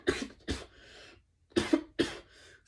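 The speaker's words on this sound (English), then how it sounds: "whenever I make long videos, I just start coughing" A man coughs in two quick pairs close to the microphone, sharp dry bursts with short pauses between, during a spoken movie review with no other sound around them.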